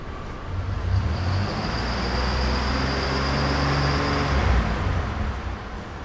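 A Chevy Impala engine hums steadily after a coolant change, held at about 3,000 RPM and then dropping back to idle, a close, continuous mechanical drone with a faint high whine and no voices.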